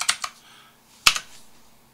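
A few quick keystrokes on a computer keyboard entering a value, two close clicks followed by a short pause and one sharper key press.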